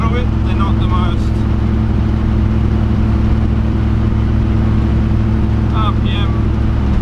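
Toyota Dyna truck with a pushrod engine running rich, held at a steady raised rev: a constant loud droning hum with low rumble, and brief voices talking over it near the start and end.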